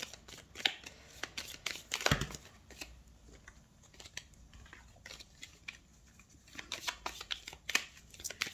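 Tarot cards shuffled and drawn for a reading: soft papery riffles and taps with quiet slides in between, one sharper slap partway through, close and low in level.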